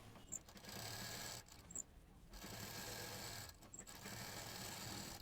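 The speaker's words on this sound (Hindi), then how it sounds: "तो इस क्विल्टेड पीस के ऊपर एक सेम कलर का दूसरा कपड़ा रखेंगे और उसको 3 साइड से सिल देंगे" An electric sewing machine stitches quilted fabric pieces for a garment shoulder, fast continuous whirring runs broken by two short pauses, close and fairly quiet, with no talk.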